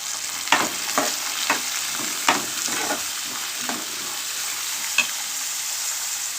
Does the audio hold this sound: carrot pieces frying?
yes